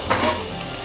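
Onions and green chillies fry in oil for chicken biryani, a brief close sizzling hiss with no talk.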